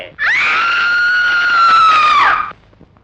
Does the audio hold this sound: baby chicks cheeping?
no